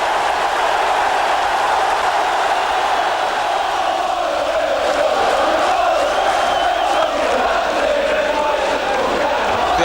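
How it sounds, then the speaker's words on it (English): Football crowd at Ayresome Park, Middlesbrough, during a First Division match, a dense, continuous roar of cheering and shouting from a large stadium audience, loud and sustained throughout with rising swells. "The Ayresome Park crowd revelling in the return of First Division football here this season."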